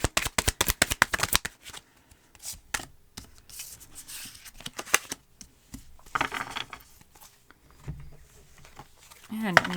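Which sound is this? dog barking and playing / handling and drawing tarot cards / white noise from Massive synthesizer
handling and drawing tarot cards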